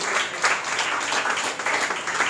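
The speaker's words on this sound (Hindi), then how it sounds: "तालियां होना चाहिए सर के लिए" Audience applause for a teacher at a school Teachers' Day program and speech competition, steady dense clapping from a crowd throughout, loud and close, with no voices on top.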